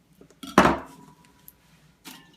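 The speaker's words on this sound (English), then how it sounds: "I'm just chopping quickly through those" A knife chopping celery on a cutting board, a few scattered light taps followed by one loud, ringing clack and a later softer knock, close and without talking.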